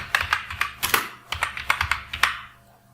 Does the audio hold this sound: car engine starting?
no